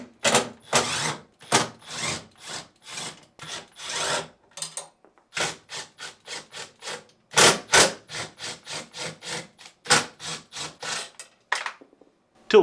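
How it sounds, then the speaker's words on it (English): A 3/8 inch nut driver removes screws from a GE refrigerator freezer drawer with rapid, repeated ratcheting bursts of scraping and clicking, close up, with short pauses between turns. "using a 3/8 inch nut driver, remove these 6 screws."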